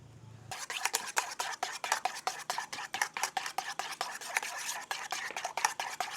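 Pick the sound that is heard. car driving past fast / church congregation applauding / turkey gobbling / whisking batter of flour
whisking batter of flour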